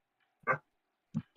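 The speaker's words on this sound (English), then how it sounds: "my dog's just fucking barking at everything" A dog barks indoors: three short, close barks, one alone and then a quick pair, with silence between.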